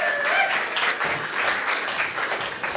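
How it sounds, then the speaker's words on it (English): Brief, steady applause from a conference audience at PyCon AU welcoming a speaker, a dense patter of many hands clapping at an even level throughout. "please give a very big round of applause for Justin Warren"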